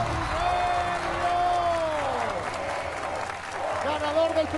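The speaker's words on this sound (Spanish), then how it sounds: "Un aplauso para Cornelio, que le pedimos que vaya para backstage" A studio audience on a televised charity-telethon masked-singer show applauds steadily, mixed with music and cheering from the crowd.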